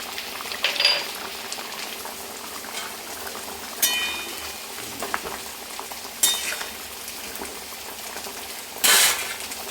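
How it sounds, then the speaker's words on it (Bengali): Rui fish curry with new potatoes bubbling in a pot, a steady low simmering hiss with occasional sharper pops and bursts of bubbling every few seconds, close and alone without speech. "তো মাছ দেওয়ার পরে মোটামুটি তিন মিনিট অবধি ভালো করে ফুটিয়ে নিয়েছি"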